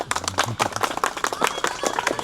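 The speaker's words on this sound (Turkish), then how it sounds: "evet bir alkış alkış ama." Clapping breaks out from an audience at a children's talent show, a burst of quick uneven claps mixed with a voice speaking over them.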